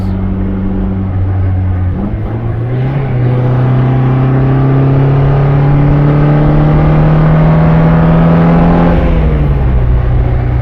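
The loud engine of a 1959 MGA Twin Cam drones and climbs steadily in pitch as it accelerates through the gears, heard close up from inside.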